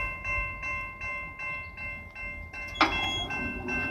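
A CSX freight train rolls past nearby with a steady rumble and sustained tonal hum, broken by repeated periodic gaps, and a sharp metallic clank near the end; no talking.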